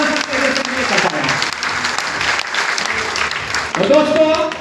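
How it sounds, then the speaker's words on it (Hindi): Audience at a direct selling network marketing seminar applauding a speaker's guru, strong continuous clapping with a voice talking over it near the end. "मेरे गुरु अनिरुद्ध कुलकर्णी सर के लिए जोरदार तालियां होनी चाहिए"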